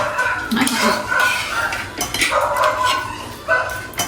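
Plates and dishes clatter and clink at a kitchen sink in a series of uneven bursts, close and fairly loud, while a dog whimpers and barks softly in the background.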